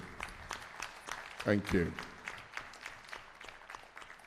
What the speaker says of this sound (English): thank you very much for this very big applause for him